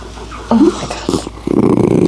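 A Jack Russell terrier growls close and loud in short rumbling bursts, with a brief whimper in between and a thicker growl at the end.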